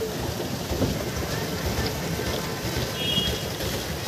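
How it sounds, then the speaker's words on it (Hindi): Steady light rain patters continuously with a broad hiss on Naini Lake in Model Town, Delhi, heard from a boat, mixed with a low rumble of water or an engine beneath it. "हल्की हल्की बारिश भी हो रही है।"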